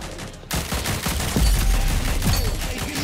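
Gunfire rattles in the video game Rogue Company. After a brief quiet start, dense bursts of rapid shots go off continuously and close, with no talking.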